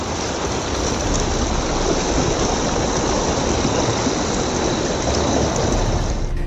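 Floodwater from the hills of Sindhupalchok, Nepal, a loud, dense, unbroken roar of rushing water filling the whole stretch.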